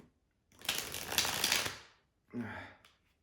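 Stiff tarot cards being shuffled by hand: a dense, rapid riffling rattle lasting over a second, a pause, then a shorter second burst of flicking cards, close and fairly quiet.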